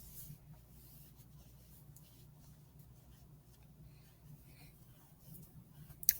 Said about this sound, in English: Let's go ahead and write the whole thing.